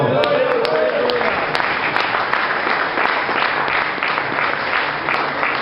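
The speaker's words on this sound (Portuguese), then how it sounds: "uma salva de palmas para Deus" A congregation at a church vigil gives a loud, sustained round of applause. The clapping is dense and steady throughout, with a few sharp claps cutting through.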